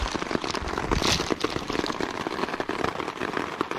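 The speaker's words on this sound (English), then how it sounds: "listen to the rain" Rain falling on the Quehanna Trail, a dense, steady patter of drops with scattered louder ticks and crackles, close and continuous with no talk.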